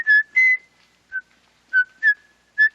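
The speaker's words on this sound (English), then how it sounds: "Hearing Duvall whistle it was also pretty funny." A man whistles the tune of Mozart's Piano Sonata No. 11 in short, clear melodic bursts separated by brief pauses, close and alone with no talking.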